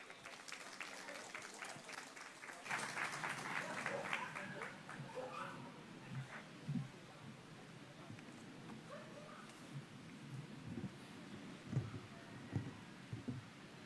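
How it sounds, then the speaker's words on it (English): An outdoor crowd applauds at a Battle for Manila anniversary ceremony in Intramuros' Plazuela de Santa Isabel, a sustained wash of clapping that swells early and then tapers, with scattered claps continuing and a voice speaking over the fading applause. "A round of applause for Attorney Joanne M. Padilla."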